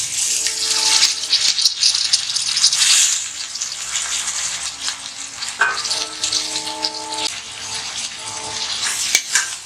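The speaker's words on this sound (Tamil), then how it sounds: "இப்போ நம்ம பாதி கட்டு புதினா போடுறேன்." Mint leaves hit a pan of sautéed ginger garlic paste for a mutton biryani in a pressure cooker, loud close sizzling and frying with rattling stirs and scraping against the metal.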